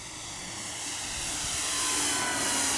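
A Flightline RC Spitfire model plane makes a slow, low flyby, its engine a steady broadband whine that swells gradually as it passes nearby, with no talk.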